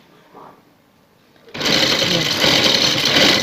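A sewing machine stitches lace onto a garment neckline, starting abruptly after a quiet opening and then running loud, close and steady with a continuous fast mechanical whir to the end.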